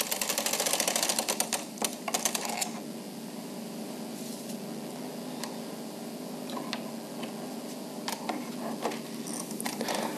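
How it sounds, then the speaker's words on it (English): Bond Classic knitting machine carriage drawn slowly across the needle bed to knit a row, giving a steady close mechanical clatter with sharper ticking bursts at the start and scattered clicks throughout. "Hold onto the loose ends and take the carriage slowly across to knit the row."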